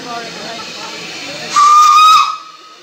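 A steam train departing Castletown station on the Isle of Man, with steady hissing steam and then a loud, sustained whistle blast of about a second, close by, with no talk.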